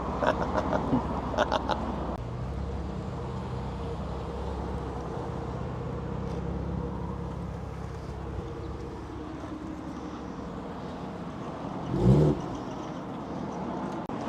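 A supercharged Holden VT Calais engine idles and rumbles steadily at moderate distance, with a brief louder surge near the end; faint background voices.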